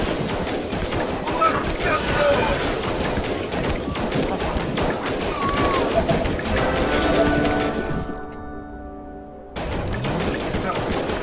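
Rapid, continuous gunfire from defending units in the strategy game They Are Billions, a dense crackling stream of shots that cuts out briefly near the end, with someone talking over it.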